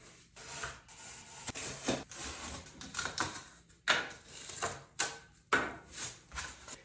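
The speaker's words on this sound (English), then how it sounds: "I'm gonna cut out the center support for my drain out of my pan" Repeated rasping cutting strokes in bursts as a tool cuts the drain center support out of a Schluter shower pan, close up and uneven in rhythm with brief pauses between cuts and no talking.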